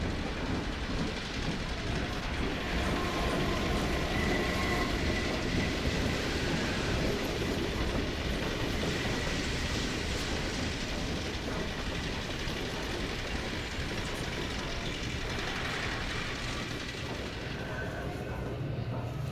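A train rolls along steadily in the Half-Life 2 video game, a dense, continuous rumble with faint rhythmic clatter that stays loud and unbroken throughout.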